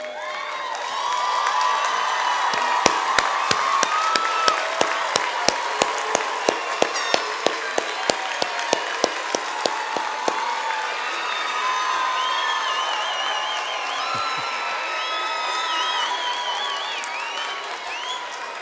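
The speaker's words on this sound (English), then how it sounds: "give a round of applause for everyone in the audience who supported you being here" Graduation commencement audience applauding and cheering for nearly twenty seconds, a dense steady roar of clapping with sharp individual claps and shouts rising above it, loud and close throughout.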